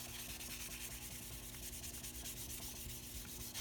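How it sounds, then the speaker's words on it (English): Continuous, even rubbing hiss of wet sanding on a nitrocellulose guitar finish using mineral spirits, sanding in one direction with steady strokes and no pauses, fairly quiet and close. "I'm just sanding in one direction."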